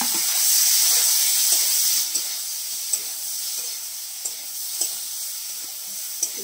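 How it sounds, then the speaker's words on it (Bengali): Onions sizzle steadily in hot oil in a pan, with a loud continuous frying hiss and a few light knocks of a utensil stirring them, and no voices. "পেঁয়াজগুলোকে একটু লাল করে ভেজে নিচ্ছি"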